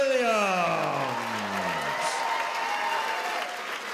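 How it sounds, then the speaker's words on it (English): A boxing crowd at a British bantamweight title fight applauds loudly and continuously, with a dense wash of clapping and a few whoops beneath a voice speaking over it at the start. "please keep the applause going"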